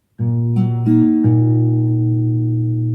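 A guitar plucks through the chord pattern of a song, a low bass note ringing under picked higher strings, close and clear with no talking.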